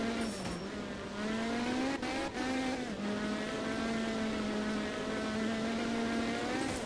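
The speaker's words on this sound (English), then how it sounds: "I'm using like full throttle a lot of the time, but I think because there's 650 horsepower" Rally car engine at full throttle in the video game Art of Rally, a steady, loud, droning roar with pitch dips and climbs as gears shift.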